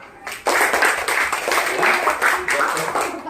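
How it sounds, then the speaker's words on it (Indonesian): A classroom of students claps for a group that has just finished its presentation, a brief burst of dense, close applause that starts suddenly and continues steadily, with a voice speaking over part of it. "Beri tepuk tangan dulu nak"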